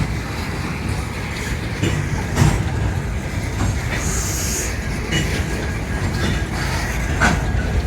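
Rail cars being switched in a rail yard rumble steadily nearby, with intermittent metallic clanks, wheel clicks and a brief high squeal over the continuous rolling noise.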